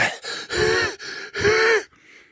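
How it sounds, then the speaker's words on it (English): Heavy, labored breathing from someone worn out by chopping a quad trail extension by hand: a run of loud, close gasping breaths in quick succession, ending on a softer exhale. "You can tell by my breathing."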